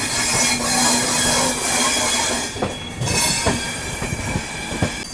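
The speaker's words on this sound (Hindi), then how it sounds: "आउटर में गाड़ी रुकी थी यहाँ पे 10 मिनट और निकल चुके हैं नई दिल्ली रेलवे स्टेशन से।" Sampark Kranti Express pulling out of New Delhi railway station, with a steady rumbling carriage noise, a faint tonal squeal, and a series of sharp wheel clacks on the rail joints toward the end.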